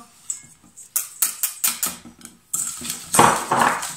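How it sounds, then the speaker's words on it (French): Egg yolks being whisked with sugar in a bowl for an Easter nest dessert, a rapid series of clinking, scraping whisk strokes against the bowl, close and fairly loud, with no talking. "Donc j'hésite pas à fouetter pour que ça devienne très clair."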